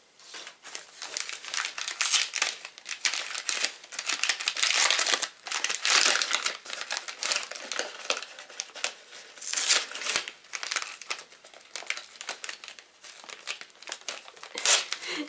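A wrapped gift package is unwrapped with dense, continuous crinkling and tearing of paper, loud and close, in irregular bursts of rustling throughout with no speech.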